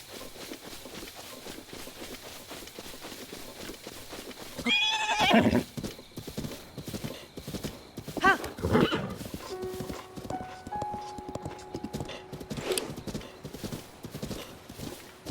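A horse in Zelda Breath of the Wild trots with a steady clip-clop of hooves and gives a couple of sharp whinnies partway through, with game sounds and faint tones layered underneath.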